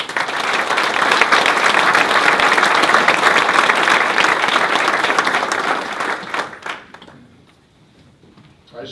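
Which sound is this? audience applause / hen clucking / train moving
audience applause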